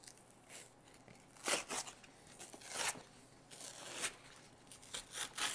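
Close, quiet tearing and cutting sounds come in short irregular bursts, with crinkly ripping of thin material between brief pauses, as a cup is cut and torn away from set foam on a gummy beer using scissors or a craft knife.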